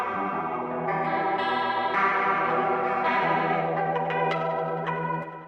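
Electric guitars processed through a spatial chorus effect play sustained shimmering chords, loud and alone, with a wide, swirling modulated tone.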